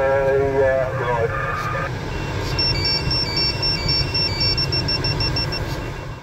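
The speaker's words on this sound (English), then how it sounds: "That alarm is the collision avoidance sensor." A glider's collision avoidance sensor alarm beeps in a steady repeating pattern of high electronic tones over constant wind and cockpit noise, with brief speech at the start.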